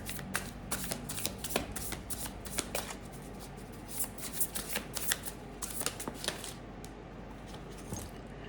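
Tarot cards shuffled by hand in a steady run of crisp riffling flicks and soft slaps, close and fairly quiet, with no talking.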